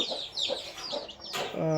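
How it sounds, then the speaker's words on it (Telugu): Breeder hens and a heavy-sized rooster cluck in a poultry breeding pen, several short close calls in quick succession with no talk. "పెట్టలు పుంజులు ఇదిగోండి"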